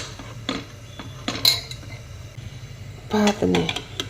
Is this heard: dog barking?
no